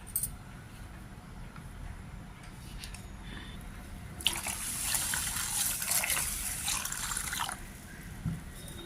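Water is poured over finger millet and green gram set to soak overnight, a quiet lead-in followed by a bright, splashy gush lasting a few seconds before tapering off, heard close and alone.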